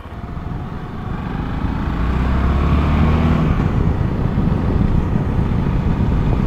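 A 2021 VOGE 650 DS A2 adventure motorcycle rides off, its engine a rising, steady rumble heavily mixed with wind roar at the microphone, loud and continuous with no talking.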